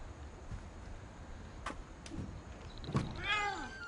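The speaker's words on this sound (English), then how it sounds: "Did I just hear a cat?" A cat meows a few times, faint and a little distant, against a quiet background.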